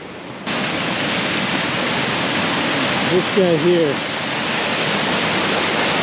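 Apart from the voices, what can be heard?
waterfall cutting through rock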